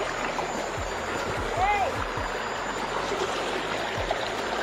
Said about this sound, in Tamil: ஸோ அந்த ரன்னிங் வாட்டர் சவுண்டு பாருங்கள், சூப்பராக இருக்குது